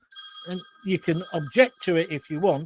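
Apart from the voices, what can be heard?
mobile phone ringing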